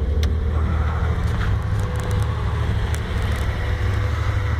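The engine of a silver 240, warmed up for a couple of minutes, idles with the hood open in a steady, loud, close low rumble, unbroken and with no voices.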